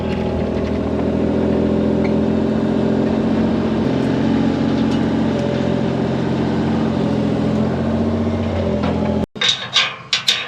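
A mini excavator's engine runs at a steady, loud drone for about nine seconds while the machine is loaded onto a trailer, then cuts off abruptly into a few sharp clanks.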